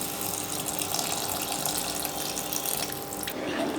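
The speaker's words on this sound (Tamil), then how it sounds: "கரைச்சி வச்ச புளி ஊற்றிக்கலாம்" Dissolved tamarind water pours into a pot of okra tamarind curry in a home kitchen, a steady liquid splashing and gushing that continues for the whole stretch with no talk.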